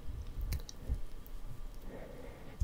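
Pokémon trading cards are handled up close with soft, sporadic clicks and faint rustles, quiet and intimate, with no talking.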